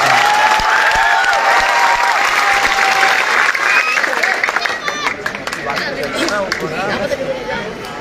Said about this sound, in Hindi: ऐसे नहीं, जोरदार तालियों के साथ इस्तेकबाल करें जनाब मोहम्मद आजम साहब।